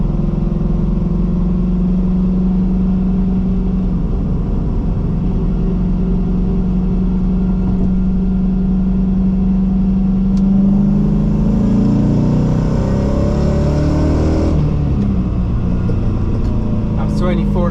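An LS V8-swapped Mazda RX-8 accelerates on a wet road, its deep engine rumble holding steady and then surging as it climbs through the gears, heard from inside with a driver speaking.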